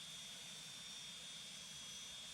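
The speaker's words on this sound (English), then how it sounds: "I can hear the engines" Jet engines of a Cessna Citation Mustang running, heard from outside as a faint, steady high-pitched whine and broad rushing roar with a thin tonal note.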